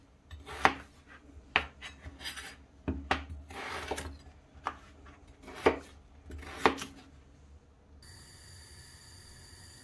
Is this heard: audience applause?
no